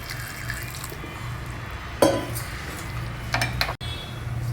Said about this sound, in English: Now next we'll add some water to boil.